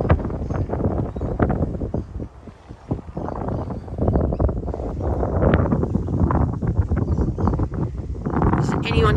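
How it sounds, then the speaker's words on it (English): Strong wind blows across a church cemetery in Sevenhill, buffeting the microphone with constant roaring gusts while a person talks over it throughout. "Oh, the wind's terrible."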